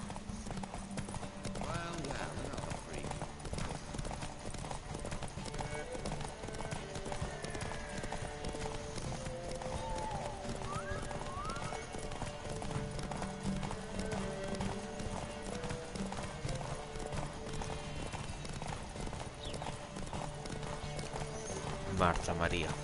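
Horse hooves clip-clop at a steady galloping rhythm throughout a race in The Witcher 3, over continuous game music and ambient noise, with a brief whinny and a voice speaking at points.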